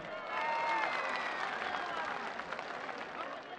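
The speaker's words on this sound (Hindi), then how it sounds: "भरपूर तालियां इनके लिए, खवातीन के लिए" Large political rally crowd at a jalsa claps and cheers for the women present, a broad distant roar of applause mixed with crowd noise and voices.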